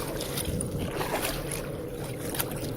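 A pedal kayak moving through the water off Key Largo, Florida, against wind and tide: a constant wash and slosh of water with wind buffeting the microphone, steady throughout and with no talking.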